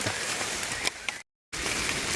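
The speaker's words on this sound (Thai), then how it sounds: "ฝนตกหนักเลยครับ" Heavy rain falls steadily as a dense, even hiss during mushroom foraging in a forest, briefly cut to silence midway before resuming.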